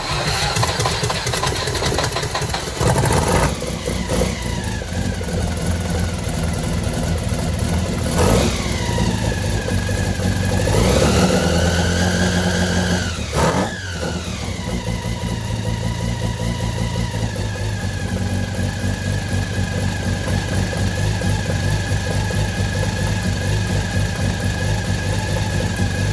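A car engine, slightly flooded after starting, idles loudly and steadily, with a few brief revs and throttle blips in the first half before settling into an even idle.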